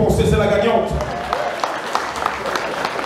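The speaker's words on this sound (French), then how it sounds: "applaudissez très fort pour elle si vous pensez que c'est la gagnante" An audience at a fashion contest event claps and cheers, a dense, loud wash of applause running throughout, with a voice calling out over the start.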